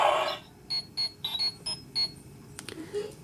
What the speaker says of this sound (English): Older fans will recognize that right away as the Communicator beep.